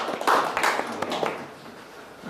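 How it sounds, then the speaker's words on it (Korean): Lecture attendees at a Confucian adult-education class give a brief, thin round of clapping, a few quiet scattered claps that fade quickly into a soft room hush. "박수 한번 보내드립니다"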